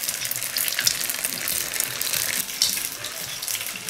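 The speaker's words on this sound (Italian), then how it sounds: "e intanto friggiamo pure la seconda, quella per mamma, con la crema di banana al rum" Pasta fritta dough frying in hot oil, a steady dense sizzle with crackling pops that carries on without pause and with no talking, close and fairly loud throughout.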